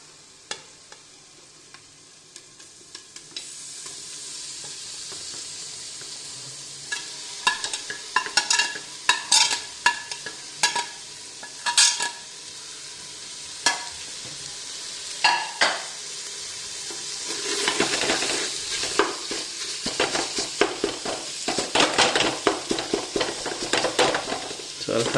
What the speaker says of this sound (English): this is the time when we add our shredded meat